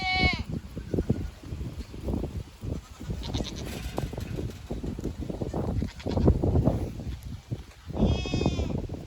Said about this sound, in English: I cannot resist seeing all their baby goats